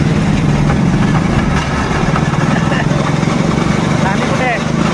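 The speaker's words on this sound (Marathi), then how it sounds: "ट्रेन स्टार्ट होते." A theme park toy train's engine runs with a loud, steady, low idling rumble that holds evenly throughout, close by and continuous.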